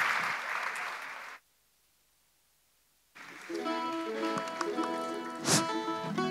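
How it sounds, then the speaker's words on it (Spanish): An audience at a folk music school's end-of-year festival in Cieza claps for a moment before it cuts to silence, then stringed instrument music begins. "Un fuerte aplauso para ellos."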